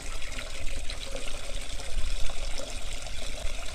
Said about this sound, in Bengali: জল দিয়ে ধরে দিচ্ছি